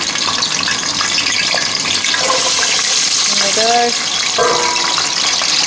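Food dropped into hot lard or butter sizzles and crackles continuously in a pan during a school food and nutrition experiment, while a person speaks briefly over it.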